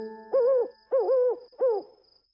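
Three close, drawn-out owl hoots in even succession over a faint steady background tone, with no voices.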